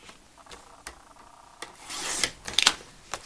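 A paper trimmer slices through a sheet of cardstock cut to 25 by 25.5 centimetres for a gift box, giving a soft rasping slide that swells for about a second, followed by a few light clicks, close and quiet with no talk.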